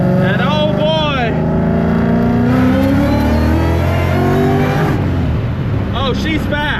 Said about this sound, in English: So now we've made it into the fastest car I own